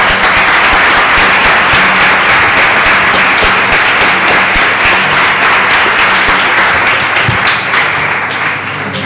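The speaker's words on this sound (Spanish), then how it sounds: "un aplauso para los nuevos colegiados" A large crowd applauds loudly and continuously at a professional psychology association welcome ceremony, dense clapping filling the room from start to finish.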